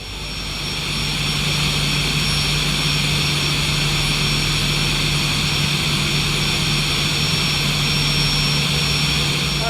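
An aircraft engine in X-Plane 12 spools up after start, rising quickly from quiet into a loud, sustained whine and roar with a steady hum beneath, with no talking over it.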